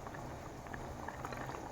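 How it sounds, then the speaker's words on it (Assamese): Water for an Assamese sour fish curry comes to a full boil in a pot, a close, steady bubbling rumble with a dense patter of small pops and no talking. "এতিয়া মই ইয়াতে ভালকৈ উতল আহিব দিম। ভালদৰে উতল আহি গ'ল।"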